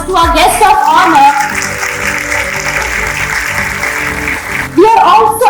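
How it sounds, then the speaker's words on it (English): An awards-ceremony audience for educators applauds the guest of honor: a steady, dense wash of clapping that swells for several seconds, with a voice speaking before it starts and again as it fades. "A great round of applause to our guest of honor."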